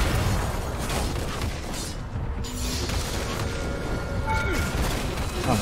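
Gangplank's broadside cannon barrage in a League of Legends match, a continuous dense rumble of booming cannon blasts and scattered pops, loud and steady throughout, with someone talking over it.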